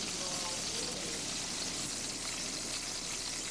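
A quarter-inch slice of ham, about four or five ounces, frying in a non-stick skillet, giving a steady, faint, even sizzle that goes on throughout with no breaks.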